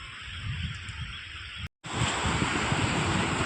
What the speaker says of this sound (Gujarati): ભરાઈ ગયા પાણી. આ દરિયો છે.